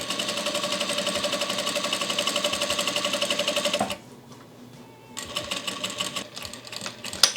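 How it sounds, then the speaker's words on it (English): A sewing machine stitches fabric for a custom dog bandage in a steady rapid run that stops partway through. Quieter clicks and handling noises follow, then brief bursts of stitching return. "So I'm just going to back stitch"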